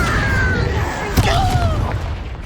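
The Incendio fire spell is cast in the video game Hogwarts Legacy, a loud whooshing burst with a low rumbling impact and sweeping tonal effects, all close and continuous.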